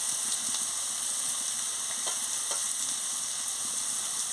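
Steady sizzling in a hot pan as ingredients are stir-fried with chilli powder, a continuous bright frying hiss with faint scraping stir strokes now and then, close and even throughout, no voices.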